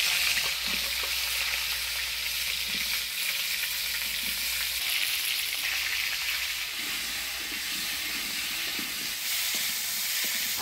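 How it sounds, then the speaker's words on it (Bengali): Potato and cauliflower pieces with turmeric and salt fry in hot oil, making a steady loud hiss and sizzle with occasional stirring scrapes over a low rumble in a Bengali village kitchen. "এবার এই তেলের মধ্যে আলু ফুলকপিটা হলুদ লবণ দিয়ে ভাজিয়ে নিই।"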